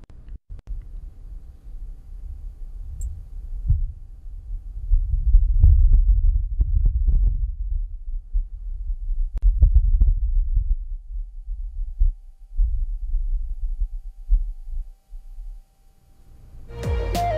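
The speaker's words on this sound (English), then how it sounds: "so you can just hear what the wind would sound like on Mars" Wind on Mars picked up by the Perseverance rover's microphone, a low, faint, muffled rumble that swells and fades in slow gusts, with a few soft clicks and no voices.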